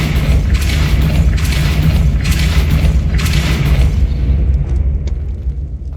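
A Confringo fire spell explosion in Hogwarts Legacy bursts as a loud, deep, rumbling boom with several pulsing blasts that fade away over the last seconds.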